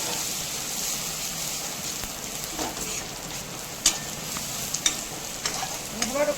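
Ground cumin, coriander and turmeric sautéing in a pan for vegetarian ghugni made without onion or garlic: a steady close sizzle with occasional stirring scrapes and clinks, no talking.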